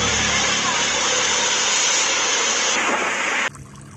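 Tap water pours steadily from a faucet over plastic toy trucks being washed, a continuous broadband splashing hiss that cuts off abruptly near the end, leaving a quiet room tone.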